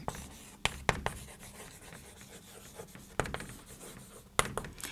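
Chalk or marker scratching and tapping against a classroom board while writing out a math answer, with a few sharp taps over a steady soft rubbing texture, close and moderately quiet, no talking.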